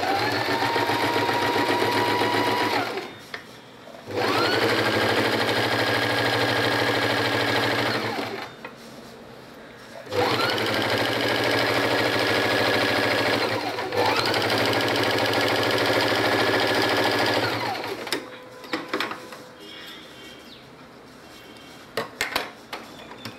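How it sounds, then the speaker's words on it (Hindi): A sewing machine stitches cotton pyjama fabric in three long bursts of fast, steady mechanical whirring, separated by short pauses and followed by a few faint clicks and handling noises at the end. "यहाँ पे भी एक स्टिच करेंगे बराबर इसके ऊपर"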